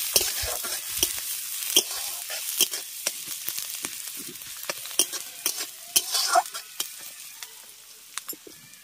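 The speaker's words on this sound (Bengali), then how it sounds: "এবার তেলের মধ্যে কুচনো পেঁয়াজ আর কাঁচা লঙ্কা দিয়ে দিচ্ছি। পেঁয়াজ আর কাঁচা লঙ্কাটাকে প্রথমে ভালো করে একটু ভেজে নেব।" Chopped onion and green chillies fry in hot oil, a steady crackling sizzle broken by frequent stirring scrapes and clicks of a utensil against the pan, close and with no talking.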